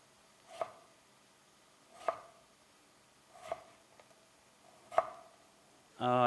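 Half a lemon sliced thinly with a knife on a board, four crisp separate cuts spaced about a second and a half apart, close and quiet, with a brief louder clatter at the end.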